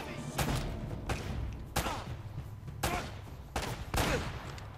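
Gunfire in Uncharted: Drake's Fortune, with five loud, sharp shots or short bursts spaced irregularly over a few seconds, over game ambience and some talk.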